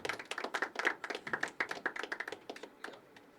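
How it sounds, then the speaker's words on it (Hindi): Scattered audience clapping at a poetry open mic night, a modest group of hands patting in an uneven rhythm that thins out and fades toward the end, fairly quiet and close. "ज़ोरदार तालियां अनहद के लिए।"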